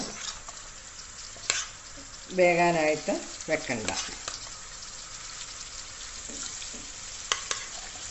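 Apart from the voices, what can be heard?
chicken frying in coconut oil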